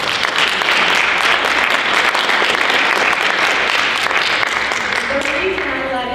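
Audience applause at a real estate association event, a sustained dense roar of many hands clapping for about six seconds and tapering slightly near the end, with a voice faintly audible under it.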